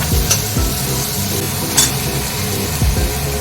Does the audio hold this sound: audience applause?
no